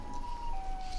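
Siren Head creature's siren in the video game Garry's Mod, heard as a steady, sustained wail with a slight pitch drop partway through, moderately loud over a dull background rumble.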